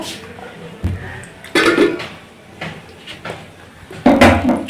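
A metal pan of chili chicken set down on a kitchen stove, giving a few scattered clanks and knocks of cookware amid quiet room noise.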